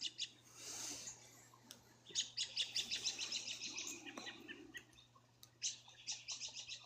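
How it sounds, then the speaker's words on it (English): Small birds chirp outdoors in quick, high trilling bursts with short pauses between, fairly faint over a steady low hum. "I can tell the birds to be quiet"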